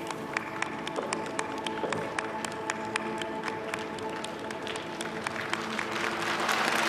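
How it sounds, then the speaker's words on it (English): Applause rings out in a space mission control room during China's first spacewalk from its space station, a dense steady clapping that swells louder toward the end, with a faint voice briefly underneath. "And we can see loud applause from the control."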